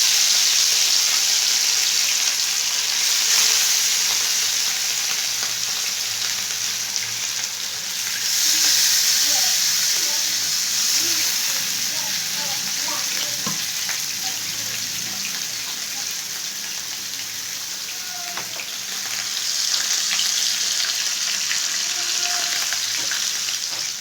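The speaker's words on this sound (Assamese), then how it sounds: "তেৱাখন ধুনীয়াকৈ গৰম হৈ গ'ল দেখিছে। মাছটো এতিয়া এপিচ এপিচকৈ দি দিম।" Pieces of fish for a lemon masala fish fry sizzle in hot oil, a loud, continuous crackling hiss that swells and eases at moments, with faint scattered clinks and no talk.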